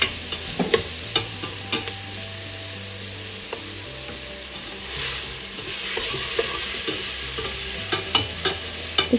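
Onions sautéing in a pot for chicken mandi, a steady sizzle and frying hiss with repeated scraping stir strokes throughout, close and moderately loud, with no talking.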